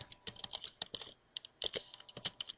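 A computer keyboard clicks in quick, uneven bursts as a folder name is typed, the keystrokes close and crisp with short pauses between runs.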